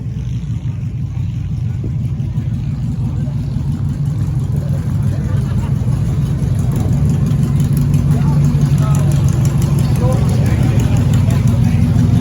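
Cars and small trucks, including a minivan and a mini truck, roll in at a demolition derby, their engines a steady, close, low rumble with talk over the top throughout.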